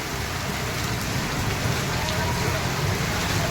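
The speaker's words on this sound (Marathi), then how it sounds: "पाऊस, पुन्हा एकदा पाऊस एवढा भरलेला आहे." Heavy rain pours down in Varanasi, a dense constant hiss of drops on surfaces that fills the whole clip, loud and steady, with faint background sounds of the street.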